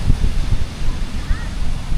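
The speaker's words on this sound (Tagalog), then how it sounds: "Medyo malakas yung hangin." Strong wind gusts buffet the microphone on a sunny Boracay beachfront, a steady low rumble with faint surf beneath it and a distant voice in the background.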